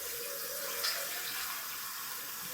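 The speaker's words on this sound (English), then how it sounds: "Get a bit of water in there, a little bit of water" Water pours from a tap into a sink as a steady, even hiss, close by and unbroken, with a slight splash near the start.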